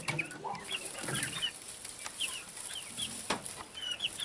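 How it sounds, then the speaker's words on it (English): A Jersey Giant rooster and a flock of chickens cluck softly at a distance on a hobby farm, scattered calls over a steady outdoor background hiss. "That's my Jersey Giant rooster that I got down in Louisiana, one of Melissa's chickens."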